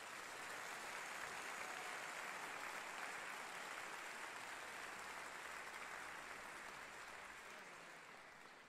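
Audience applause fills a stage hall after a massed tuba ensemble's Christmas carol performance, a steady dense clapping that holds strong for the whole stretch and tapers slightly at the end.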